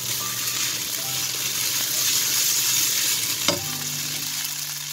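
Vegetables and vermicelli sizzle steadily in a pan with a little added water, a dense close frying hiss stirred throughout, with a brief sharp utensil knock near the end.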